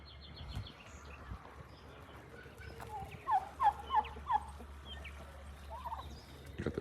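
Young turkeys outdoors on an urban farm give a quick series of about four short, bright gobbling calls at moderate distance over steady outdoor background noise.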